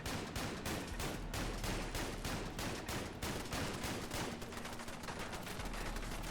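Dense, steady gunfire in the video game Fallout London, a continuous rattle of rapid automatic shots with no pauses, loud and alone.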